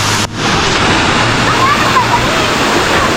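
A powerful waterfall at Pagibig Falls, swollen by rain, roars in a dense, steady rush close by, with a voice speaking faintly over it.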